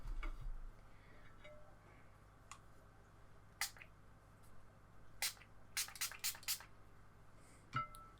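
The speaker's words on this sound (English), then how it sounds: "Just sprayed my paint again, just so it survives." Short bursts of a spray bottle misting water over acrylic paint on a palette, several quick spritzes in a row, close and fairly quiet over a low steady background hum.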